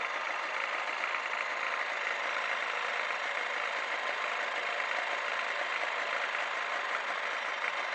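A Honda NSR 125 motorcycle engine runs steadily after exhaust work, a constant, close, buzzing hum with no pauses and no talking.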